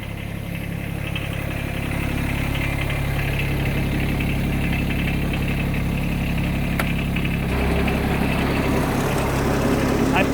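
A John Deere X748 tractor with a front-mounted snowblower runs steadily nearby, a continuous low engine drone that swells slightly toward the end.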